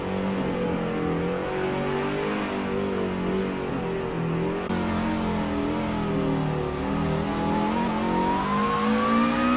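Race car engine in a Formula virtual racing game, a continuous loud whine whose pitch rises and falls through gear changes and then climbs steadily as the car accelerates.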